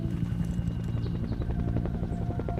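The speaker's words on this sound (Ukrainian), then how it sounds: "Гелікоптери летять сюди" A helicopter in a film flies overhead, its steady rotor chop and engine drone filling the scene continuously without pause at moderate level, with no voices heard.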